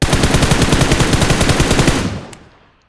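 Rapid automatic fire from an M762 assault rifle in the PUBG video game, a loud, dense stream of evenly spaced shots lasting about two seconds before trailing off into a short echoing decay.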